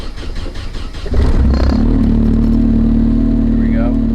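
A Nissan 240SX S14 engine cranks and catches after a second, then settles into a loud, steady idle with a slight rise in revs, recorded close by.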